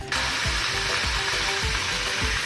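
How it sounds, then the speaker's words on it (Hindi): Chicken sizzling in oil in a pan while cooking a white chicken pulao, a steady, loud hiss of frying with soft rhythmic thumps of stirring underneath. "5 से 7 मिनट तक हमने चिकन को अच्छे से फ्राई कर लिया है।"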